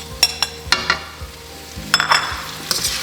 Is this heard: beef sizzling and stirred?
yes